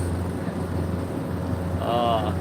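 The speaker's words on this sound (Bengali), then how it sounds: "লঞ্চ ছেড়ে দিয়েছে উদ্দেশ্য প্রথমে লিশাঘাট তারপরে পাতারহাট" A passenger river launch pulls away from a ghat near Barisal, its engine a low, steady drone under constant wind buffeting, with a brief higher whistle near the end.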